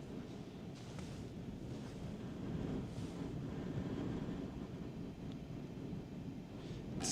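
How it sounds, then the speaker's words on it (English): Wind buffeting a hillside near an erupting volcano in Iceland, a steady low rushing roar with gusty swells and faint microphone rumble, continuous and fairly quiet throughout with no voices. "It's getting a bit windy up here."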